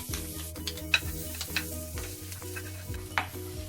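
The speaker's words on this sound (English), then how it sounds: "so let's start cooking. Let's start with the garlic." Garlic sizzles in a pan as a utensil stirs it, with a soft frying hiss and scattered light scraping clicks, all under steady background music.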